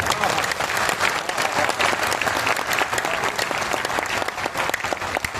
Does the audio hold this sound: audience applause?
yes